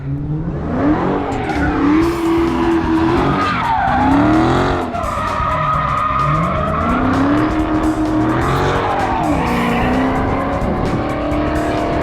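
A Ferrari F430 lapping a race track, its engine loud and close as it revs up and down through gear changes, with tires squealing through the corners over about twelve seconds.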